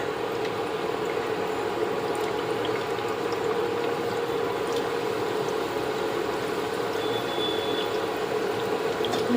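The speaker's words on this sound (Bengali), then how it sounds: "তেল গরম হয়ে গেছে এবার ঠেকুয়াগুলো ছেড়ে দিচ্ছি তেলের মধ্যে" Thekua, a sweet Chhath festival snack, frying in hot white oil in a kadai over medium heat; a steady, continuous bubbling sizzle holds at an even level throughout, with no talking.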